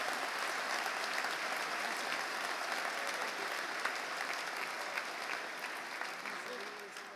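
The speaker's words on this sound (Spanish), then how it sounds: "Fuerte el aplauso para Paraguay." Sustained applause from the audience at a missionary church congress in Oberá, Misiones, Argentina, a steady dense wash of clapping hands that keeps a constant level for several seconds.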